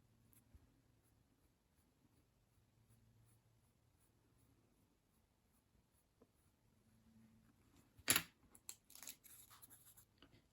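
Pencil drawing a curve on a paper template for a dolls house part: a faint, quiet scratching over low room hum, then a sharper, louder scrape and brief rustling near the end.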